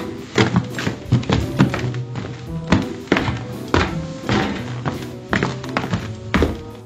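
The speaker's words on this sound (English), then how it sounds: "The knights marched noisily through the little home." Knights march noisily through a small cottage, heavy irregular thumps and knocking footfalls sounding close and loud, one after another over several seconds.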